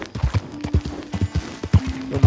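Horse hooves clip-clop steadily in Red Dead Redemption 2, a rhythmic run of close, fairly loud thuds with a faint sustained tone underneath.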